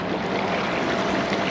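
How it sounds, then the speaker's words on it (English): PacMotor electric boat motor running on open water, a steady close wash of churning water and motor hum with no break, loud and continuous. "Oh, my other motor's picking up."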